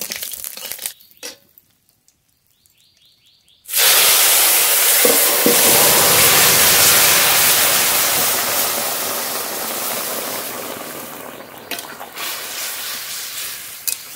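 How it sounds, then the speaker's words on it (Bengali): Pumpkin curry poured into hot mustard oil tempered with bay leaf, radhuni and whole cumin, a sudden loud roaring sizzle that bursts in after a quiet moment and slowly settles into steady frying. "ফোড়ন হয়ে গেছে, এবার তরকারি ঢেলে দেবো"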